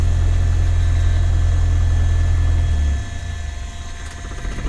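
A light training aircraft's piston engine at Redhill idles with a close, loud, steady throb, then the sound drops sharply after about three seconds as the mixture is cut off, leaving a quieter, winding-down hum.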